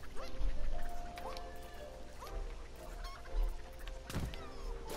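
Chickens clucking in Plants vs Zombies Garden Warfare 2, short faint clucks scattered over a busy game background with a sharp impact near the end.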